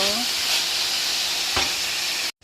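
Onion sautéing in a hot pan gives a loud, continuous sizzle with a stirring scrape partway through, then cuts off abruptly near the end.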